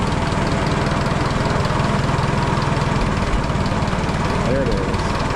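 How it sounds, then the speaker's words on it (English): An engine idles right after a cold start, with coolant freshly checked. Its loud, close, steady chug carries a fast regular pulse that shifts slightly partway through. "Let's see how well it idles."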